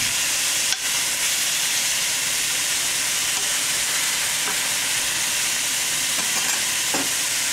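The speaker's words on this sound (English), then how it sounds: "You can just see the smoke coming off these pork chops." Pork chops sizzling steadily in a hot, smoking pan, a dense, crackling hiss that runs unbroken from start to finish.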